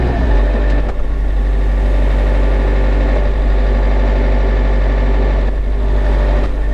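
A Kioti RX tractor engine runs steadily at close range, a loud, constant low-pitched drone with a deep rumble, holding nearly level as the throttle is raised.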